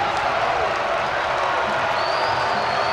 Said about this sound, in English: Crowd on their feet, making noise